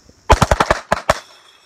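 Handgun fire at a shooting range: a rapid string of six close, loud shots, then a short pause and two more, with a brief echoing tail.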